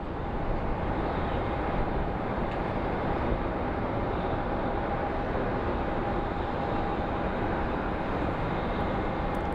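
A heavy jet at Sky Harbor International Airport in Phoenix gives off a distant, steady broadband roar that stays even and unbroken throughout, with no talking.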